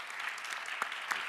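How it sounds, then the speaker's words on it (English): Brief, steady burst of audience applause at a university speaker series, a dense, even patter of clapping with a couple of slightly sharper claps rising out of it. "Let's give them a round of applause again."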